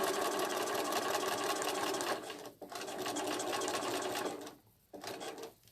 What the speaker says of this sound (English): I'm going to put my glove on just to help push the machine along.